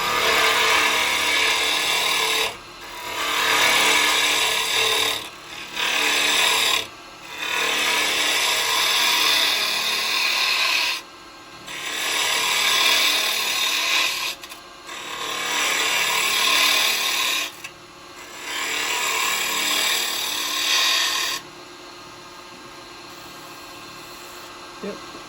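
Carbide chisels cut into a wooden Christmas bell spinning on a lathe, making a loud, hissing scrape in several long passes broken by short pauses, with the lathe humming steadily throughout.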